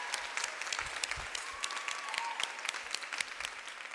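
A large audience of incoming students and families at a college convocation claps continuously in a dense, even round of applause that holds steady throughout, heard alone without talk.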